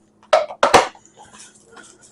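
A butter container lid is put back on: two quick plastic clunks and rustles close by, followed by faint handling sounds.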